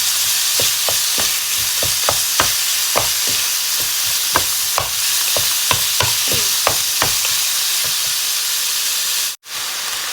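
Beef sizzles and hisses steadily in a hot pan for basil stir-fry, with a spatula scraping and tapping in a loose rhythm close by. The frying noise cuts out for a moment near the end.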